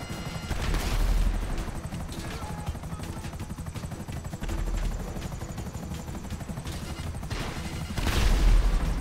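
Helicopter in the video game GTA Online, a loud continuous rapid rotor chop with bursts of gunfire and booms over it.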